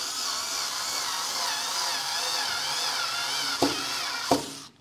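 Cheap FERM cordless screwdriver driving a thin screw, a steady high motor whine running for about four seconds, then two short sharp clicks as it stops, close and alone with no talk.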